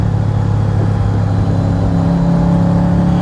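A 1966 Chevrolet Corvette convertible with a high-output 327 V8 accelerates, its loud, steady engine note holding close and continuous throughout, with no talking.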